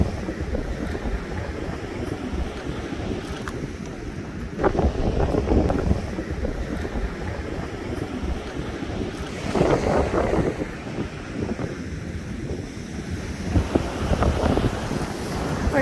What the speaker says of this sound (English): I don't think you'll be able to hear a lot of it out here, to be honest with you, with the amount of wind